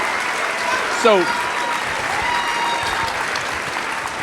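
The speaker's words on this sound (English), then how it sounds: "I want y'all to keep clapping" Audience applause at an education association's student panel assembly, steady clapping throughout with a brief spoken word near the start.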